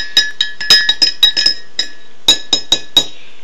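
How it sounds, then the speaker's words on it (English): A spoon clinks rapidly against the inside of a glass while stirring Nesquik and sugar, bright close metallic chimes in quick irregular bursts, a short pause, then several more clinks. "you stir it up."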